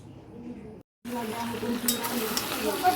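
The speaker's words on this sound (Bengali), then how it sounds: "দেখো মাংসটা কষানো হচ্ছে" Mutton sautés in a pan for biryani with a close, crackling sizzle and faint stirring scrapes, broken by a brief silence before the frying resumes.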